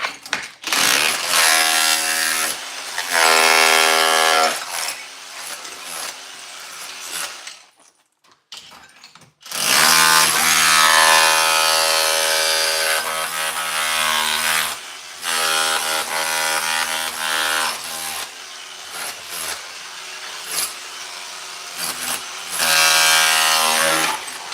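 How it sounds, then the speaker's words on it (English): A Bosch rotary hammer breaks up an old tile floor with a loud, continuous hammering buzz, briefly stopping near the middle before resuming at full strength. "this little Bosch rotary hammer,"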